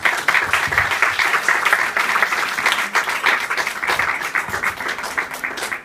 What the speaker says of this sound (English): Please give our clients a round of applause.